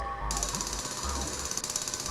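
A video-game rock drill grinds steadily through stone in Manic Miners, a fan remake of LEGO Rock Raiders, with a loud, continuous rattling jackhammer buzz that holds for about two seconds.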